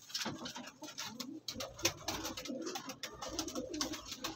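High-flying cross-breed pigeons, Sialkoti and Teddy crosses kept for sale, coo steadily in a dense, overlapping chorus with soft chirps, close by and continuous.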